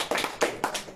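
A few separate, sharp hand claps ring out in quick succession at a public gathering in Foumbouni, close and fairly quiet, with no talk around them.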